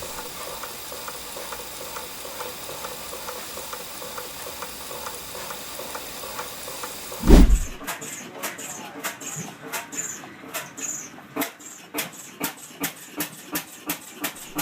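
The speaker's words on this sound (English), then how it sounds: "An A.C. Thomas oilfield half-breed engine from around 1925 starts up at the Pioneer Steam and Gas Engine Society" A loud thump, then an A.C. Thomas oilfield half-breed engine from around 1925, single-cylinder, catches and settles into slow, evenly spaced chuffs and pops over a hissing background.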